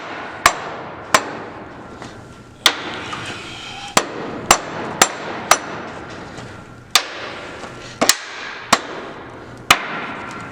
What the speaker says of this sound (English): I'm just going to give it a little tap to get it loosened up